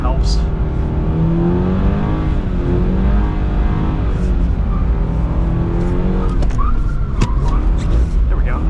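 A 2022 Subaru BRZ drifts through a figure eight and a spin, its engine revving loudly up and down while the tires squeal, and someone talks over it.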